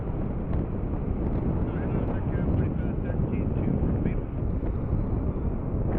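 Crosswind at an airport buffets the microphone in a continuous low rumble, with a person talking faintly beneath the gusts.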